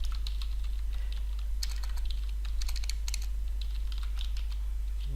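Rapid clicking keystrokes on a computer keyboard while Java code is typed, irregular bursts of close, crisp taps over a steady low electrical hum, with no voices.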